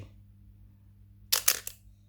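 An Olympus OM-10 film camera in auto mode fires its shutter, a close crisp mechanical clack followed by quick rattling clicks against a low steady hum.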